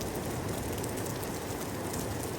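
Heavy rain in Saysomboun, Laos, during a typhoon pours as a dense, loud, continuous roar with no breaks or voices.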